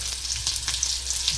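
Onions frying in a pan for kushka rice, a close, steady sizzle and crackle with faint stirring scrapes, no voices.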